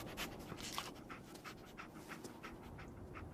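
Dogmeat, the dog in the Fallout video game, pants rapidly in quick, rhythmic breaths, soft and close, with no other sound over it.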